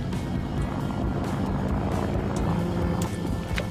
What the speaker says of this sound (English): how about we spawn a British plane?